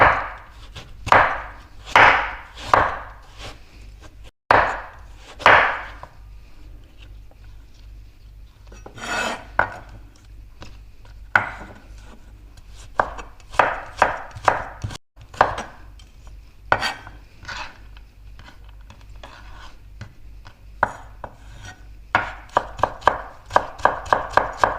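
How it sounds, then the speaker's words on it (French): A knife chops carrots on a board in a series of crisp, close strokes, sometimes in quick runs and sometimes spaced out, with brief pauses between. "On va hacher des carottes."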